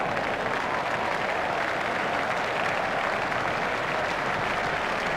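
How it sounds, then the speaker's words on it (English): A cricket crowd at a West Indies versus Australia one-day international roars and applauds after Chris Gayle hits a four, a loud, even and continuous wash of clapping and cheering. "Crowd were brought to their feet by that shot."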